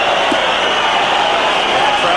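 A boxing arena crowd roars in protest over a low blow in the 8th round of a scheduled 12-round fight involving Gonzalez. The dense, loud, steady din of many voices runs throughout.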